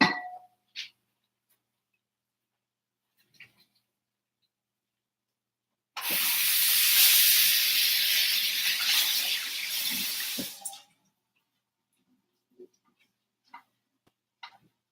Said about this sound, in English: Very fresh catfish. So I'm going to rinse it.